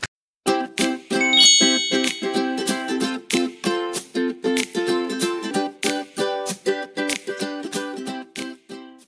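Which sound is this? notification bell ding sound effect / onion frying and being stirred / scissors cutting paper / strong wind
notification bell ding sound effect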